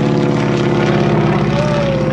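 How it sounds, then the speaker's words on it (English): A Stearman-style PT-17 Army Air Corps primary trainer biplane drones past at an airshow, its loud radial engine and propeller a steady, close, continuous roar throughout. "Army Air Corps PT-17 primary training."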